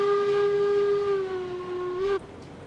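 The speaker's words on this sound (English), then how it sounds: "having a button to push at when you want a couple whistle blows is a nice feature" A steam locomotive whistle in the railroad game RailRoads Online gives one long, loud, steady blast lasting about two seconds, then cuts off sharply, leaving quieter train rumble.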